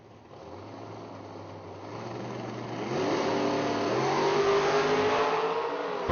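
At a drag strip, a Chevrolet S10 and a 1968 Camaro launch side by side. Engine drone steps up into a loud, rising roar of acceleration that stays strong to the end, with no talk.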